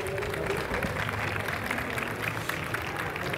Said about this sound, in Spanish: Un fuerte aplauso para recibirlo